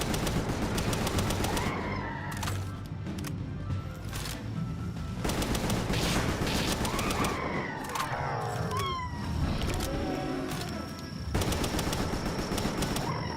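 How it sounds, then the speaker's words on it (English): Gunfire in Palworld: a near string of rapid shots under game music and creature cries, with quieter gaps between bursts. "I am shooting them with my gun."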